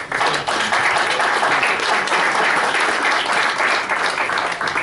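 A round of applause at a college board of trustees meeting, steady moderately loud clapping from the room lasting several seconds with no talk over it.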